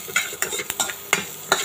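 Crushed ginger, garlic and green chillies stirred in a hot pan, sharp scraping strokes of a spoon against the metal every few tenths of a second over a soft sizzle.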